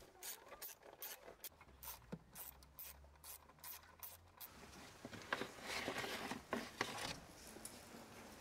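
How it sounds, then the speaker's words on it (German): Ratchet with a 10 mm socket loosening screws on the intake cover of a BMW N46 engine, with a run of quick ratcheting clicks up close followed by scattered taps and handling noise. "dafür die 4 Schrauben mit der Zehnernuss lösen und die Abdeckung wegheben"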